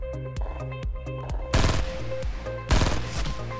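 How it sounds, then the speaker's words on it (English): Gunfire in a squad-based video game, two loud bursts of rapid shots breaking over a steady background of game music. "Gunshots, gunshots to the northwest"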